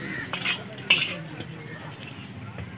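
Sweetened rice being stirred in a pot for a sweet dish, with a few soft scraping strokes near the start and a low, steady background of gentle sizzling and clatter; no talking.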